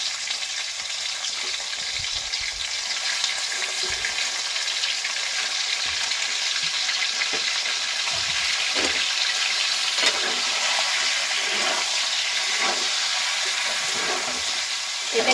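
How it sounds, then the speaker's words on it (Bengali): Chicken pieces frying in hot oil in a wok, a steady, loud, close sizzle that continues throughout with occasional small pops and stirring scrapes. "আমি চিকেনটাকে ভেজে নিচ্ছি"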